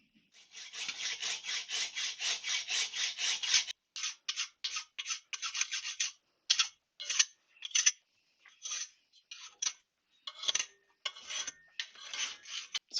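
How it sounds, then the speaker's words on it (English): A die nut being wound off the threaded end of a part during a BSA B50 Gold Star motorcycle refurbishment, giving a steady rasping scrape that then breaks into a series of short, repeated scraping strokes, close and clear with no talk. "when you run the die nut off, it cleans up the threads on its way out"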